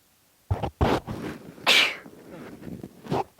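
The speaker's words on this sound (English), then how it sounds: "I'm going to sneeze." A single loud sneeze, close to a microphone, follows a few short sharp breaths and sniffs in an otherwise quiet room.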